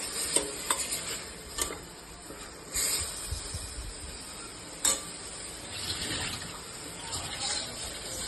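Steady sizzling and stirring of mint sautéing in a hot pan, with scraping strokes at intervals and a constant hiss underneath; close and moderately loud, no talking.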